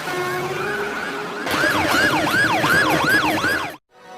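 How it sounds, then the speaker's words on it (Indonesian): Police car siren sounding during a chase, a loud wailing tone that sweeps up and down repeatedly over steady traffic rumble, starting partway in and cutting off abruptly near the end. "Dan sirine pun berbunyi dengan sangat elegan."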